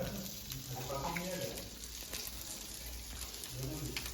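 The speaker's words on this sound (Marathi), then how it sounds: "बागडा फ्राय चालू आहे काय आता आणि ते काय पापलेट पापलेट फ्राय करून झाले" Bagda prawns and pomfret fish frying in a pan at a Lonavala villa, with a steady close sizzle and spatter running throughout while voices talk over it.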